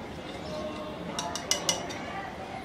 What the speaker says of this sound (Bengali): এই কর্নফ্লাওয়ারটুকু আবার একটু গুলে দিব